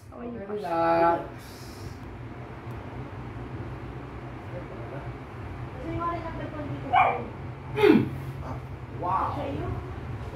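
A dog barks and yips in short bursts at a home during a massage for a swollen sprained ankle, the barks scattered among people talking and a steady low hum.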